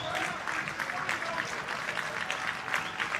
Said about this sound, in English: Crowd on their feet here in Tuscaloosa.